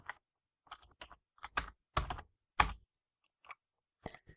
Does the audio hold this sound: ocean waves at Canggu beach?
no